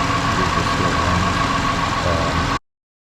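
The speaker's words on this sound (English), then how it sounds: "This is the vehicle running without the start-stop battery on it." A 2016 Land Rover LR4 engine idles steadily up close with its auxiliary start-stop battery removed, a constant dense mechanical hum with a faint tonal whine, cutting off abruptly near the end.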